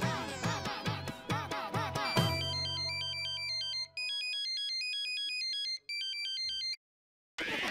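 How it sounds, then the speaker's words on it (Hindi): An electronic phone ringtone plays a bright, repeating melodic pattern, starting with a chiming tune and then switching to rapid beeping tones, with brief gaps. "रिंग बज रहा है।"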